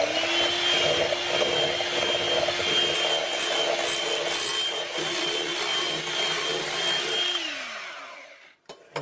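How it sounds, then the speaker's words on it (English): An electric whisk whips egg whites for no-machine ice cream, a loud steady motor whir running for several seconds before cutting off, followed by a brief clatter. "I'm going to now whisk the egg whites till they're lovely and whipped."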